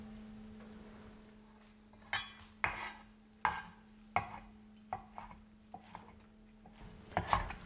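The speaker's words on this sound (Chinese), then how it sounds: "来加一点盐巴杀青，搅拌一下。" Salted bok choy being stirred in a bowl or pot makes a series of scattered, soft clattering scrapes at an uneven rhythm over a steady low hum, with no talking.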